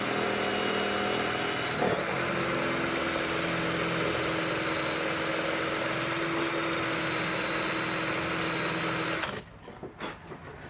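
A power tool carves a groove into the side of a plastic armor chest piece, a steady close buzzing whine that runs for about nine seconds before stopping, followed by a few faint handling knocks.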